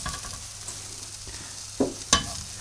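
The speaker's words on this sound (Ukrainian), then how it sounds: "Пасируємо, пасируємо овочі, картоплю, коренеплоди, цибульку" Vegetables, potatoes, root vegetables and onion sauté in oil in a pot, a steady soft sizzle with a couple of sharp stirring scrapes near the end.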